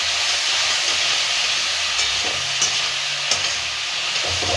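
Turmeric being stirred into a sizzling curry in a pan for a Bengali village dish of potato, aubergine and puti fish, with a steady frying hiss and a few scraping strokes of the spoon, close and continuous, no voices.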